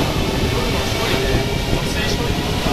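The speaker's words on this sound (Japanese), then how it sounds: "これが地下鉄1号線です。" Inside a Paris Metro Line 1 subway train, a loud, steady rumble and rushing roar of the moving carriage fills the space, with someone talking over the noise.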